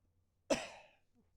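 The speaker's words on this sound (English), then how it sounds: "I heard that cough." A single sharp cough rings out in a quiet room and fades within half a second, with nothing else around it.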